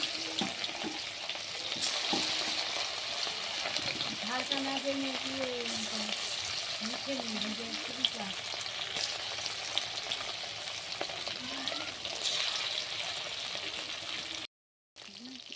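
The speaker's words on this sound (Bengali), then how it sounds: "ম্যাগনেট করে রাখা চিকেন এখন একটা একটা করে ভাজবো।" Marinated chicken pieces, dropped one by one into a wok over a clay wood-fired stove, crackle and sizzle steadily in hot oil, with a faint voice murmuring underneath and a brief silent gap near the end.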